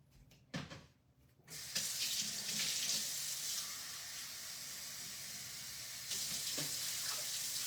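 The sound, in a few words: water being poured into a pot of rice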